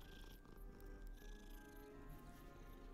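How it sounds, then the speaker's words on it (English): A cat in the video game Hogwarts Legacy purrs steadily while being stroked, a low continuous rumble heard close and alone over quiet game ambience. "He's purring."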